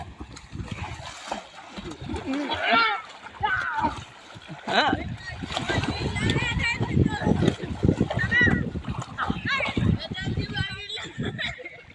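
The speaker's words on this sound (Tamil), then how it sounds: "அங்கே பாருங்க ஒரு தம்பி நீச்சல் அடிக்கலாம் பார்த்தா வலை இடுப்பில் கட்டி வரான்." A young man swims with a fishing net tied at his waist, splashing through the water in repeated bursts while several people talk and call out nearby.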